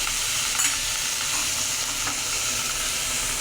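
Eggplant pieces frying in a pan for a fish curry, a steady loud sizzle and crackle close up with faint stirring, no talk.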